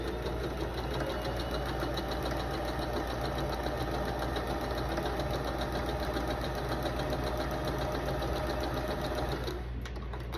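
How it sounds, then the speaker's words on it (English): A sewing machine runs steadily, stitching a quarter-inch seam in a scrap quilt. The rapid, even mechanical hum is close, continuous and alone, then stops abruptly near the end. "And then sew on the other side at 1/4 inch."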